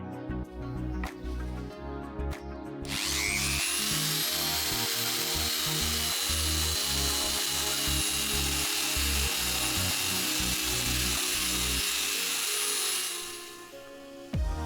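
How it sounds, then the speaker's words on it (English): An electric belt sander whirs up at about three seconds and runs steadily on the foam of a 1990s Selle Italia Flite bicycle saddle, a loud close drone with a high whine, then stops near the end. "Here I'm just using an electric belt sander, which works perfectly for this."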